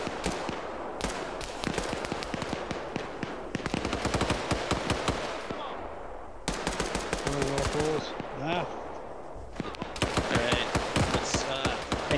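Rapid bursts of automatic gunfire in a squad-based shooter game, loud and close, repeating in clustered volleys with brief gaps, while players talk over the shooting.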